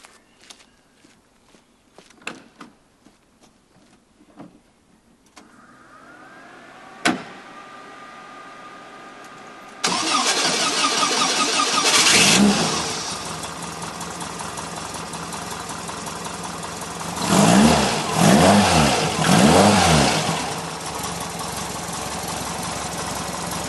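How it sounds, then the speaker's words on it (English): A few footsteps and clicks, then a stone-cold Volkswagen van engine cranks and starts, settling into a steady idle with a couple of louder revs. "tell you what, Tom, the best thing on this van is not just the engine, it's the cold start"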